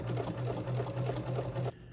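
Sewing machine top stitching on vinyl runs in a quick, even rhythmic chatter of needle strokes, close and fairly quiet, then stops abruptly near the end.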